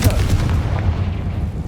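A Confringo blasting spell goes off inside a closed, tomb-like mine in the Hogwarts Legacy video game, a loud, continuous booming blast with a heavy low rumble that holds steady for under two seconds.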